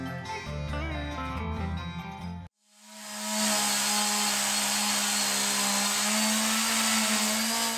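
A short burst of music cuts out, then a chainsaw roars into a loud, steady, buzzing whine that holds without a break to the end.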